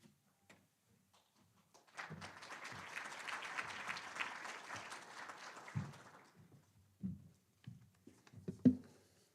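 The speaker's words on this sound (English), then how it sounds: "please give her a round of applause" An audience at a mayor's State of the City address in Rochester, Minnesota applauds a school board member, a dense burst of clapping lasting about four seconds before fading, followed by scattered thumps and room noise.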